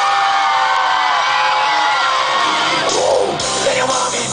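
A concert crowd screams and whoops in welcome, a loud, dense wall of yelling voices that holds steady throughout with shrill peaks near the end.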